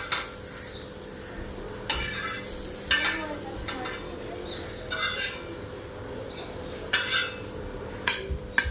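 Onions fry on a hot pan under a steady soft sizzle, while a utensil scrapes and clatters against the metal in short bursts every second or so, close by and with no voices.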